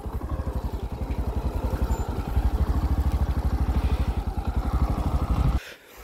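A Bajaj Platina motorcycle rides steadily with its small single-cylinder engine chugging in a rapid, even pulse, loud and close, before cutting out abruptly near the end.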